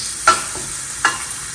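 Frozen corn, green beans, peas and carrots fry in a pan over low to moderate heat, with a steady sizzle broken by two quick stirring scrapes.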